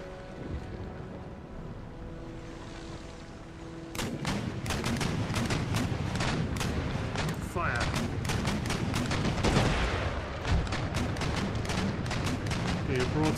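Ship cannons fire in a naval battle in Empire Total War, starting with a quiet lull and then a rapid irregular barrage of sharp booming shots overlapping for several seconds, with game ambience and a voice talking underneath.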